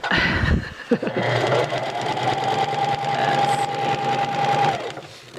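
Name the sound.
sewing machine top stitching elastic on cloth diaper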